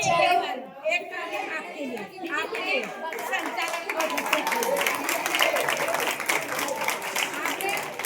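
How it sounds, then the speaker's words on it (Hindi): Indoor audience at a Hindi religious gathering honoring a Jain acharya clapping for themselves, a steady dense round of applause mixed with crowd chatter and voices throughout. "और खुद के लिए भी ताली बजा लो कि हमने बहुत ध्यान से देखा।"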